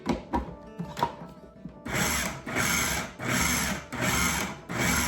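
Food processor pulsing root vegetables and herbs for chermoula sauce, a few short taps and clicks, then loud whirring bursts in regular on-off pulses, close and alone.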